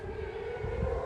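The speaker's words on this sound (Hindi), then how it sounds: "सुन सकते हैं आप सायरन, सुन सकते हैं आप सायरन" Air raid alert sirens sound in Israel, a steady sustained wail with a held tone over low background rumble, continuous through the brief moment.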